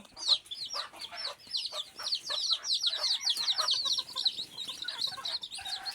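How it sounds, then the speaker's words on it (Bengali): Desi chicken chicks peck at feed and cheep and cluck constantly in a busy, overlapping chorus close by, with no voices. "দেখুন, বাচ্চাগুলো কিন্তু খাবার খাচ্ছে।"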